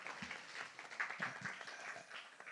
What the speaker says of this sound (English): please give a big hand for Nisarga